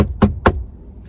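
Two sharp knocks on a minivan window, spaced about a quarter second apart, close and fairly loud, followed by quiet interior room tone.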